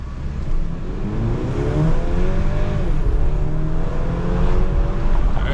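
A turbocharged 4-cylinder engine in a 2023 Mercedes GLC 300 4matic accelerates hard from inside the cabin, its note rising steadily with rising turbo whine layered over a low, continuous engine drone.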